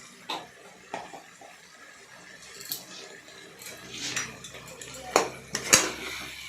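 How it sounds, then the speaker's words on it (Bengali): A spoon stirs a pot of tomato and turmeric Shankar fish curry, producing sparse, quiet clinks and scrapes against the metal over a low background, ending with a few sharper knocks. "এবার সেটাকে ভালো করে নাড়াচাড়া করলাম"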